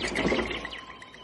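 A short bird chirping sound effect in an audio drama, a brief flutter of bright tweets that quickly fades, with no voices.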